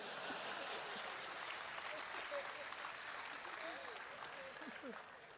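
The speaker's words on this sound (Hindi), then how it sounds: "और अब आपकी तालियां उठेंगी" A crowd at a Hindi comic poetry recital applauds, a dense, sustained patter of clapping hands filling the hall, moderately distant and gradually tapering near the end.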